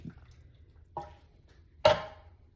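Coconut milk poured into a pot of one-pot jerk chicken and rice lands in two wet splashes, a softer one and then a louder, fuller slosh, close by against a quiet kitchen background.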